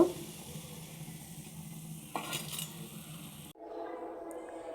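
Coriander-leaf chops sizzle quietly in hot oil over a low flame while a utensil scrapes and clinks, then the sizzle stops abruptly and a faint background hum remains.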